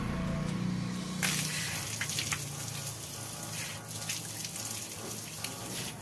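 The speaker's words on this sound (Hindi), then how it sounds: "मुँह हाथ धो लेता हूँ" Tap water gushes steadily into a sink while someone washes face and hands, with brief splashes breaking the continuous rushing flow close by.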